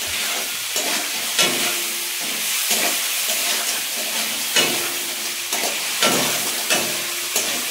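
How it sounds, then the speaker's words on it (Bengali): Crabs frying in a pan for a sour crab dish, loud continuous sizzling and steam hiss broken by regular scraping stirs and clatters, with no talk. "সুন্দরভাবে ভেজে নিই কাঁকড়াগুলো"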